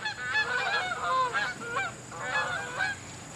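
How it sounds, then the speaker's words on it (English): Canada geese honking outdoors, several overlapping calls in a loose flock chorus, moderately distant against a steady background hiss. "These Canadian geese, they sure are neat watching stuff"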